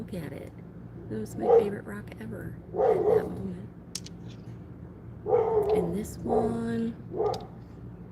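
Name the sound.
dogs barking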